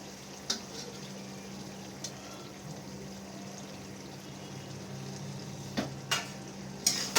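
Boiled vegetarian chow mein tossed with sauce in a hot pan: a soft, continuous sizzle over a low hum, broken by a few sharp scrapes and taps of the utensil toward the end, with no speech.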